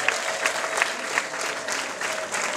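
A crowd at a wedding ceremony applauds to welcome the groom, a steady, dense round of clapping that continues throughout at an even level.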